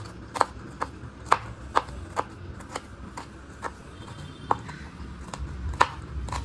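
Garlic, around fifteen to twenty cloves, being finely minced with a kitchen knife on a board, giving sharp, irregular taps that come in a steady run of close, crisp strikes with no talking.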